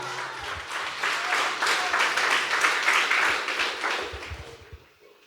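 Congregation at a Christ church service breaking into loud, sustained applause, a dense wash of clapping that holds steady for several seconds before tapering off toward the end.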